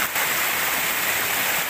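Fast floodwater rushes loudly and steadily, a dense continuous roar of churning water close by with no break across the whole moment.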